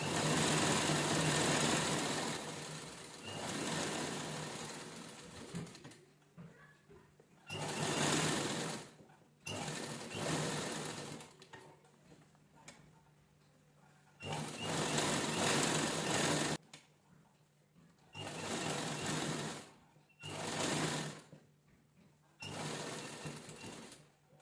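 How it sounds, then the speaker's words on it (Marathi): Electric sewing machine stitching the full side seam of a blouse being made into a cover, running in about six steady whirring bursts separated by short pauses, close and fairly loud. "आपण साईडला पूर्ण शिलाई करून घेऊया"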